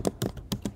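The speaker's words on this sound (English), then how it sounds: "So I'm going to type" Keys clatter on a computer keyboard in four quick, evenly spaced taps, close and clear with no talking.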